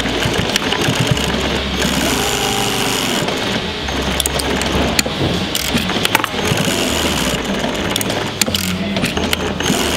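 An industrial sewing machine stitching the back pieces of denim jeans together, a steady dense mechanical whir and chatter running without pause and loud throughout.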